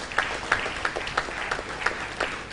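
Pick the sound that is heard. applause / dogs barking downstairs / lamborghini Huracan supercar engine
applause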